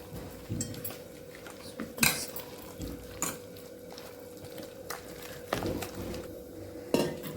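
Murthappa batter being mixed by hand with water until lump-free, heard as quiet, scattered clinks and scrapes against a bowl with soft wet sloshing, spaced irregularly and with no voices.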